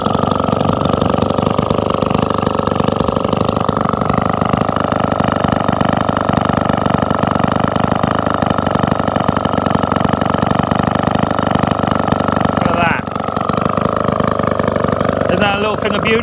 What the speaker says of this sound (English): Little tiny 83, 86cc Villers midget engine.